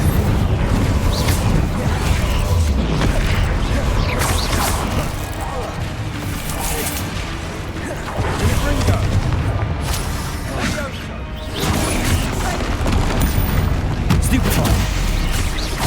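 Spell blasts and impacts ring out in Hogwarts Legacy combat, a continuous barrage of booms, crashes and magical bursts layered over game noise, with a voice calling out spell names throughout.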